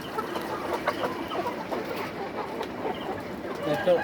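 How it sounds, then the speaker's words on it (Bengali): Layer hens of two kinds, white and red, clucking in a poultry shed, a steady busy chorus of soft clucks close by under a background murmur. "এখানে 2 রকমের মুরগি আছে"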